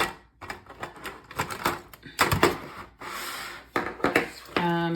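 An electric eraser rubbed on its side against sandpaper, scratchy bursts of abrasive rasping close up in short repeated strokes, ending with a brief whining motor tone.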